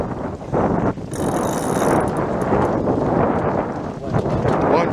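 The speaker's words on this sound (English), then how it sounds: "Wind." Wind blows hard and steadily across the microphone, a loud rushing roar that fills the whole stretch, with a brief hiss of extra gusting early on.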